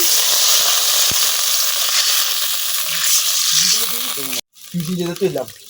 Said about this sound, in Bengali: এখন আমি দিয়ে দিতেছি একটু পানি।